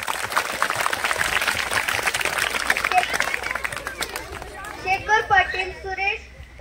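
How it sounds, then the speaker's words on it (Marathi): Schoolchildren at a school assembly clapping together, a dense burst of applause mixed with crowd chatter that fades out, and then a voice speaks over the tail. "टाळ्या वाजवा"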